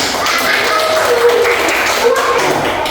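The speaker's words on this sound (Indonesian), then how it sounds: "Beri tepuk tangan dulu." A classroom group applauds, a steady patter of many hands clapping together for a few seconds.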